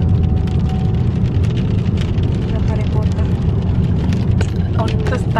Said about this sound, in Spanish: Ahorita está lloviendo.